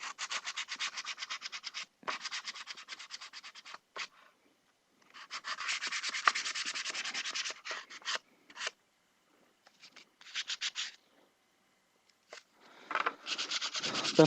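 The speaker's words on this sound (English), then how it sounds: "I like to flip my sandpaper around at regular intervals just so I keep the nice sandpaper out there" Sandpaper rubbed by hand over a plastic melee prop blade, giving raspy scratching strokes in bursts of a few seconds with short pauses between, fairly close and moderate in level, with no talking.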